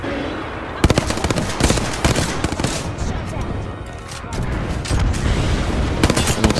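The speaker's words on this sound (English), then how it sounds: "I'm firing." Sustained automatic gunfire in the battle royale game Apex Legends, dense bursts and single loud shots firing almost continuously, with players talking over the shooting.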